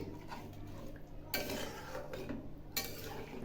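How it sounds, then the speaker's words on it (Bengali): Spoon scraping and clinking against a pan as milk and water are stirred into vegetables for a Bengali niramish shukto with jute leaves, two louder scraping bursts over a steady low simmering hum. "এখন আমি একটু নেড়ে দিচ্ছি।"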